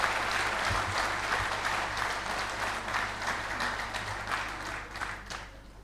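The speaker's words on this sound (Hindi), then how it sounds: "उन सबों के सम्मान के लिए एक बार तालियां बजाइए साथी, जोरदार तालियां बजनी चाहिए" A hall of about 500 people at a company anniversary gathering breaks into strong applause, a thick continuous clatter of clapping that gradually softens, with a low steady hum underneath.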